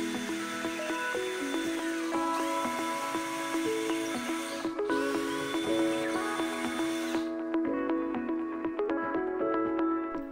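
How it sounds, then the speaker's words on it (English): A power drill boring a hole into a wall to mount a picture ledge, with steady whining bursts that shift pitch as the bit bites, pausing briefly midway, then a lower grinding run near the end. "Drill the hole."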